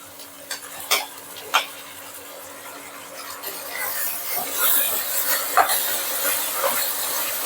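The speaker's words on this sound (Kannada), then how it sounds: "ಸ್ವಲ್ಪ ಗೋಡಂಬಿ, ಶುಂಠಿ ಬೆಳ್ಳುಳ್ಳಿ ಪೇಸ್ಟ್, ಕರಿಬೇವಿನ ಸೊಪ್ಪು ಚೆನ್ನಾಗಿ ಹುರ್ಕೋಬೇಕು" Ginger garlic paste, cashews and curry leaves frying in a pan, a continuous sizzle and hiss broken by sharp clinks of a metal spoon against the pan, the frying thickening and growing louder midway.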